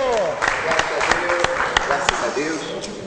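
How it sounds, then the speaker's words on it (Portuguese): Scattered clapping and crowd noise with a few sharp claps standing out, mixed with background voices and whistle-like tones. "vamos aplaudir o Bispo Alceu!"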